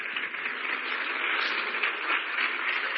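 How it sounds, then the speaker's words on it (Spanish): A church congregation applauds, a steady band-limited roar of many hands clapping together that holds evenly for several seconds at moderate loudness, heard as if through a thin, tinny channel. "Démosle un aplauso al Señor por la obra que hizo en María."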